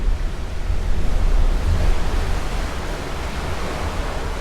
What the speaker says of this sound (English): you can hear the waves crashing inside the hole in the cave